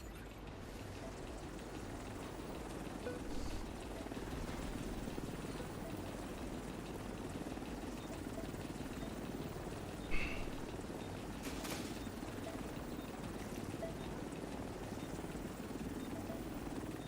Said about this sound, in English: Helo arrived.